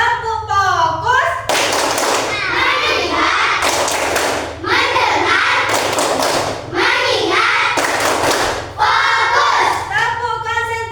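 A class of children performs a rhythmic clapping routine, loud bursts of unison claps alternating with group chanting, bright and close in a classroom.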